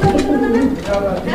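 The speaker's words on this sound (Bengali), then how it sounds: "এটা হচ্ছে মুখী কবুতরের একটা জোড়া" A pair of Mukhi fancy pigeons at a pigeon sale coo close by in a soft, rolling call.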